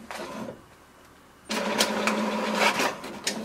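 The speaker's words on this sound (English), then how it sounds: "It will send a command to the printer to do the printing." An HP DeskJet 2724 printer sits quiet, then starts printing with a sudden whirring, clattering mechanical run and repeated feed clicks, fairly close and loud.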